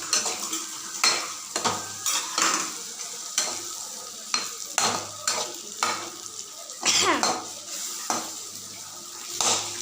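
Food sizzles in a hot pan while a spatula repeatedly scrapes and stirs, producing rhythmic clatters over a constant crackling hiss, close by.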